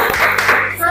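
A group clapping hands during a Christian religious lesson, a brief close burst of mixed clapping with some voices underneath.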